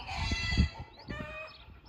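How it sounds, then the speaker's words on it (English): Chickens cluck softly nearby, a few short, uneven clucks over a quiet farmyard background. "The chickens are singing their song."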